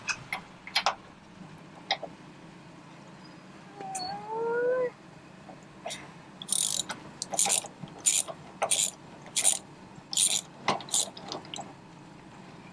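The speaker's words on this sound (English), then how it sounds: "Now we're going to take out the anode rod." A ratchet wrench works loose the anode rod on an RV water heater: bursts of rapid metallic clicking repeat in a steady rhythm up close, with a few scattered knocks and a brief squeak, and no talking.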